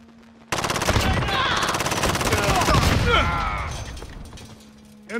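Rapid automatic gunfire rattles continuously for several seconds in a Call of Duty-style shooter on the Shipment map, loud and close with mechanical clatter and a voice heard faintly beneath.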